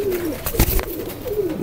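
Broad-feathered Sialkoti highflyer pigeons at a breeder's loft in Karachi coo twice, a close rolling call at the start and again at the end, with a brief thump and rustle between.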